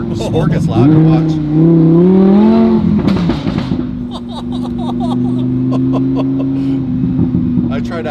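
A car engine in sport mode revs up with a rising, wavering roar, then settles into a steady, loud droning hum, with laughter and voices over it.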